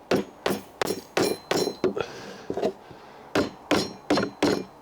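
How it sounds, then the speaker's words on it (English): Loud, sharp hammer blows strike cracked wooden pallet boards about ten times in uneven groups, each hit ringing briefly, with a short pause of quiet rubbing midway. "I've actually got most of that big crack out by just hitting that with a hammer"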